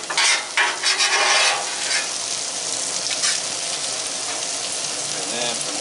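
Peppers hit a hot Blackstone griddle while Philly cheesesteak meat cooks, giving a loud, steady close sizzle with scraping and stirring at the start, continuing alone afterward.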